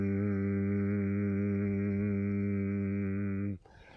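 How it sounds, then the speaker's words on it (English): A steady, closed-mouth hum held at one low pitch for about three and a half seconds, rich and close, then cut off abruptly. "our mouth is closed and we're making a humming sound like this."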